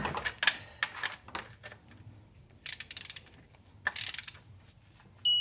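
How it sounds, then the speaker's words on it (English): A torque wrench ratchets and clicks while tightening the oil drain plug on a 2012 Ford Focus, giving quick mechanical clicks in short bursts with quiet gaps, fairly faint and close by. "All right, so now take your torque wrench."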